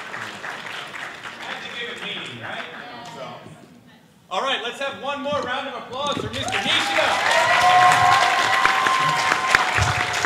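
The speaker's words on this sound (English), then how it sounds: "let's have one more round of applause" Crowd applause and cheering rise at an anime convention live-drawing event, beginning after a brief lull and swelling louder and fuller toward the end, with talk mixed in.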